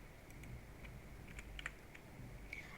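Light keystrokes on a computer keyboard, a handful of faint, scattered taps over a low steady background hum with no voices.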